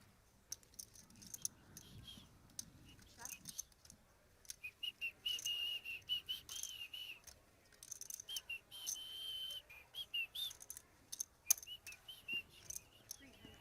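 Someone at a poker tournament table whistles a tune, faint and intermittent in a quiet room, broken by small clicks.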